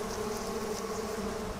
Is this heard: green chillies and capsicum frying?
no